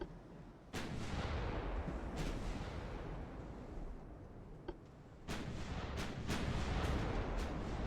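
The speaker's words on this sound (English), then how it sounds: "Our little 9-inch shells are going to start firing now." Bursts of 9-inch naval gun fire in the Ultimate Admiral: Dreadnoughts battlecruiser game: loud booming salvos roll in at irregular intervals over a constant rumbling battle backdrop, with a cluster of sharp shots near the end.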